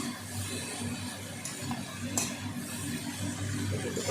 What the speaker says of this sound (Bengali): একটু করে নাড়বো